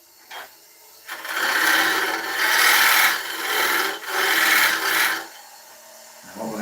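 A woodturning tool cuts the tenon of an oak bowl on a lathe, making four or five close scraping passes of rasping wood noise, each swelling and fading, with quiet pauses before and after.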